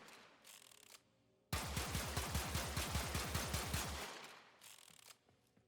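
Rapid volley of AkVasto Prime dual pistol shots in Warframe, a steady rhythmic string of about twenty close, loud cracks lasting a few seconds, bracketed by quieter ambient game sound.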